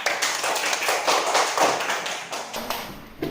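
Applause from a classroom of students for a group that has finished presenting, a broadband patter of claps for about three seconds at moderate level, thinning out toward the end.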